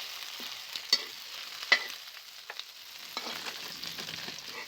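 Chicken giblets stir-fried with ginger in a pan for a late-night home meal, a faint sizzle punctuated by scattered clicks and taps of a utensil against the pan, quiet and without speech.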